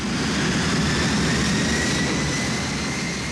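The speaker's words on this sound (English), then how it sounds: "Hundreds of feet after the end of the runway, the plane limps into the air." A passenger airliner struggles off the runway at Melbourne's Tullamarine airport and climbs barely above the ground, its engines giving a loud, continuous broadband roar with a steady whine held throughout.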